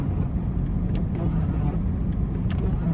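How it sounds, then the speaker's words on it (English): Military vehicles driving past on a Norwegian road in the Arctic, heard as a steady road rumble and engine drone from close by, with a few faint higher clicks and rattles. "I think I'm in the middle of a set of military vehicles."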